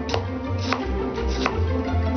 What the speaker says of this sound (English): When you finally chop the onion, first make strip cuts along and across the grain.